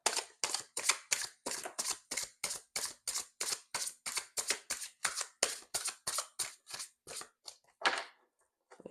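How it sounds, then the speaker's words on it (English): A deck of tarot cards being shuffled by hand, a steady run of roughly twenty crisp, papery bursts in even rhythm, then a pause and silence. "shuffle one more time"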